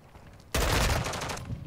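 Gunfire in Call of Duty MW2 during online multiplayer, a sudden loud burst of rapid shots kicking in after a quiet start and rattling on steadily to the end.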